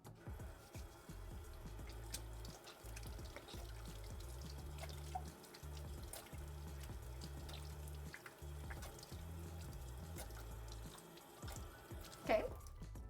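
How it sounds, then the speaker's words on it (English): Tap water running over hands at a kitchen sink during cooking, a soft continuous splashing stream with a low rumbling undertone and brief drips, faint and steady. "I'm going to wash my hands though."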